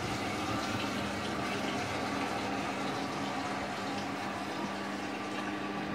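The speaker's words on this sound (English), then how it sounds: "Also, yeah, it does make a bubbling sound." A household toilet in a house in Neath, Wales, bubbles and gurgles steadily under a constant watery rush, close and unchanging throughout.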